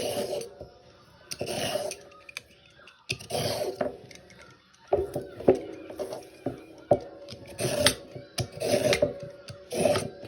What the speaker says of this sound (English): Let me go ahead and peel the carrots.